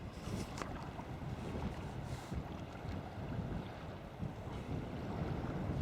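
Strong wind gusts and buffets the microphone out at sea while sea kayaking off Elgol on Skye, a loud, continuous low rumble with faint water movement and no talking.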